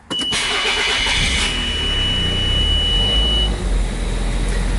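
A Nissan Figaro's engine cranks and starts, a brief starter whir with a warning chime, then settling into a steady, close idle that runs loud and even.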